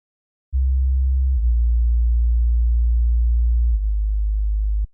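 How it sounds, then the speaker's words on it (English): A deep, pure Roland Juno synthesizer sub bass tone holds steadily for about four seconds, briefly dipping twice, then cuts off. "The Juno has a really lovely sub bass."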